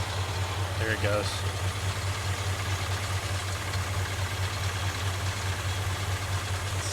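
A rough-looking 1969 Ford F100 engine idling after sitting for years: a steady low rumble with a constant throbbing hum, plus a brief clatter near the start.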